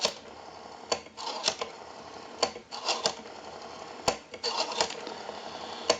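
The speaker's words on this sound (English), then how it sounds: "We have a nice, smooth return on our rotary." Rotary dial of a Western Electric 502 desk telephone spinning back after each number, heard as close, dry mechanical whirring and clicking bursts, one after another with short gaps in between.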